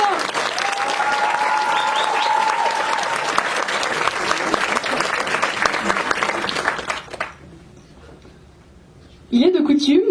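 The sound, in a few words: audience applauding festival jury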